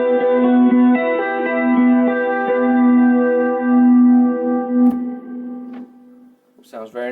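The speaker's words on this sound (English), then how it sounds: "We'll run through the wet side only, which is getting all of the modulation and the delay." Electric guitar through only the wet side of an effects rig, heavy with modulation and delay, sustained notes shimmering and smearing together before trailing off, with a brief sound near the end.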